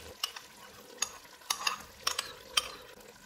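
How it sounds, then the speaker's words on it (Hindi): Chicken curry spices and whisked yogurt fry in a pressure cooker over a medium flame, with a faint steady sizzle broken by several sharp, irregular clinks of a spoon stirring against the pot. "अब हम चूल्हे को मीडियम कर देते हैं और इसको ऑयल अलग होने तक भूनेंगे।"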